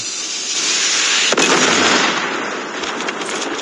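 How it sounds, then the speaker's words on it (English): Predator missile strike in the mobile shooter Call of Duty Mobile: a loud, sustained roar of blast noise with a sharp crack partway through, fading slowly into rumbling debris. "Friendly Predator missile inbound"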